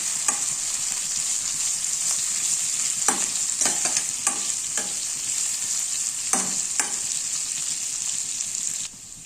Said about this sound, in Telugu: కరివేపాకు వేసుకోవాలి. ఇది గోల్డ్ కలర్ వచ్చేంత వరకు ఫ్రై చేసుకోవాలి.